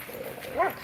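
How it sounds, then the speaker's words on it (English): A dog gives a single short, faint yip or bark outdoors in the woods, brief and somewhat distant over quiet background. "Stupid dog."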